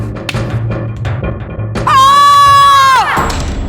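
In a historical TV drama, a man screams on command, one long sustained cry held for about a second after brief clattering and thuds.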